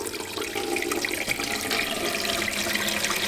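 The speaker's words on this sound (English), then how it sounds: "So literally open it up and you just pour the water in like so." Water pours steadily into the 8-litre tank of a Yokekon ultrasonic humidifier, a continuous close splashing gush with no talk.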